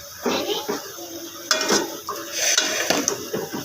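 Ingredients, including bitter gourd, are stirred and mixed in a cooking pot with water, with metal utensil clinks and scraping against the pan in short irregular bursts, close by.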